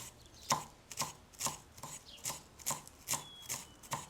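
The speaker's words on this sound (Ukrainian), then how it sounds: "Зелені я ставлю так багатенько, але нарізаю не надто мілко" Steady knife chopping of fresh dill and parsley on a cutting board, about nine crisp strikes at an even pace, close and fairly quiet with no talking.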